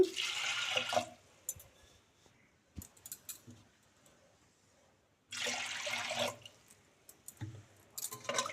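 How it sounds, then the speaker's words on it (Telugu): Water is poured from a glass over soaking lentils in two bursts of splashing, with small clinks and drips in the quieter gap between them. "ఏ గ్లాస్తో అయితే వాటర్ తీసుకున్నామో అదే గ్లాస్తో రెండు గ్లాసుల వరకు నీళ్లు పోసుకోవాలి"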